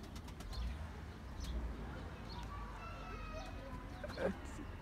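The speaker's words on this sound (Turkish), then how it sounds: "Bunlar bizim kuşlar." Domestic flying pigeons coo softly at a balcony loft, low murmuring calls under faint background noise, with a brief flutter or knock near the end.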